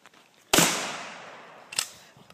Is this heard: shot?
yes